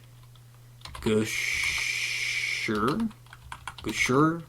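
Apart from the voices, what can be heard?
typing on a computer keyboard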